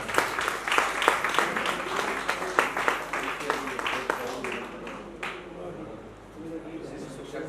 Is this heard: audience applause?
yes